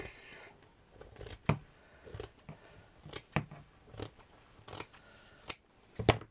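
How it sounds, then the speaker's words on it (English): Scissors cut a large chunk from craft material for a pearl rose project, making a series of crisp snips, some sharp and close, others softer, spread irregularly with quiet rustling between them. "I'm just going to cut a big chunk off."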